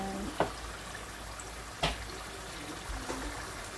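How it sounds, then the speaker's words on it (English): Tap water runs steadily during rinsing while okra stew is being prepared, a faint continuous trickle broken by a couple of brief splashes. "I'm going to rinse it with water and show you"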